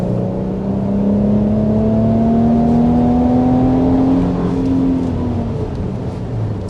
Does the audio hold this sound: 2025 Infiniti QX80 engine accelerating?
yes